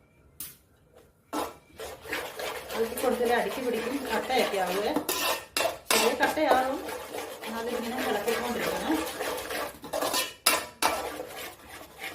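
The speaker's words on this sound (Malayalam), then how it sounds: "ഇളക്കിക്കൊണ്ടിരിക്കണം കേട്ടോ ഇനി ഇത്" A spoon scrapes and clatters against a pot while chicken curry is stirred, a steady run of metallic clinks and scraping with a few brief pauses, loud and close.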